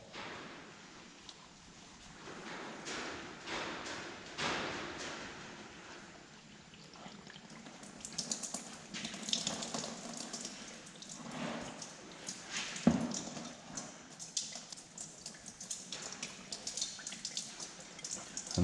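Diesel drains from the unscrewed fuel filter of a tractor, a faint, continuous trickle and splash that swells and thins, with a few drips and no talk.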